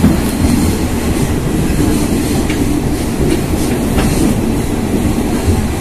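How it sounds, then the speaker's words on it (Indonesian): A commuter train rumbles past close by between Matraman and Sudirman stations, Jakarta, loud and continuous, with a low roar of wheels on rails and faint clacking throughout. "Oh, ada kereta Cina."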